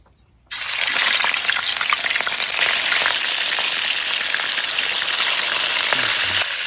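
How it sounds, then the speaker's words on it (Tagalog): Pork leg (pata) frying in hot oil, a loud, dense crackling sizzle that bursts in abruptly and holds steady and close, with no talking. "Iprito lang natin itong pata."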